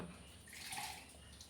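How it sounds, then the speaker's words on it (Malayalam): Water poured into a cooking pot while preparing a dish, a steady soft splashing pour that stays faint and even throughout the short stretch. "ഒഴിച്ചിട്ട് കുറച്ച് വെള്ളം കൂടെ അതിനകത്ത് ഒഴിക്കണം."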